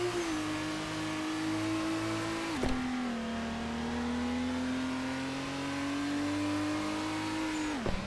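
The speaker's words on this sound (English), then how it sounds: "It has a unique custom engine sound" The Katana car's custom engine in Roblox Jailbreak drones and revs in a sustained, rising tone, dropping sharply at gear shifts before climbing again.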